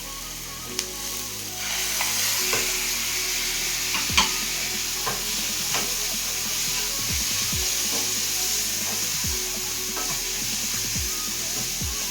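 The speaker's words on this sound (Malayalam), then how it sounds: "നന്നായി ഇളക്കണം" Spinach and egg frying in a pan with onion and crushed coconut for a Kerala-style stir-fry, a steady sizzle running throughout as a spoon scrapes and stirs in repeated strokes, close and moderately loud with no talking.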